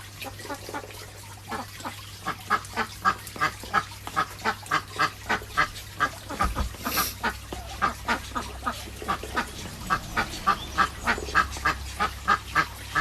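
Ducks quack in a steady run of repeated calls on a Sunday morning, the rhythmic quacking fairly close and continuing throughout with no one speaking.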